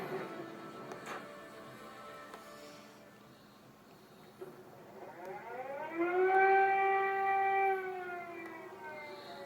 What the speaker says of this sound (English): Explosions and air raid sirens sounded east of Kiev city center